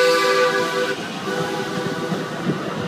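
A DART Blue Line light rail train sounds its loud multi-tone horn close by for about a second, then the horn cuts off and rumbling wheel and track noise continues as the train rolls in.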